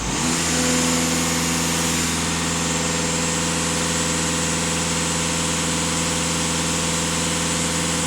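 A Volkswagen Scirocco TDI diesel engine holds a loud, steady raised-rpm drone after a brief rev at the start, running close and constant without any talk.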